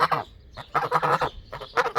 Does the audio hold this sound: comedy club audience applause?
no